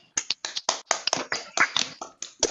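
A small audience at an International Women's Day event claps for a guest: a dozen or so sharp, separate hand claps, close and uneven, with short gaps between them.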